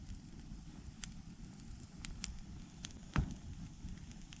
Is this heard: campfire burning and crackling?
yes